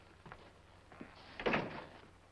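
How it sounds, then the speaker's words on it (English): A door being pushed shut indoors, with a few light scrapes and knocks building to a sliding rush and closing thud near the middle, heard close and fairly soft. "Close the door."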